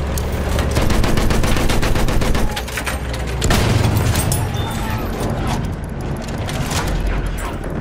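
Machine gun fire from the Battlefield Tank Master video game rattles in rapid sustained bursts with heavy booms, loud and continuous for several seconds amid battlefield noise.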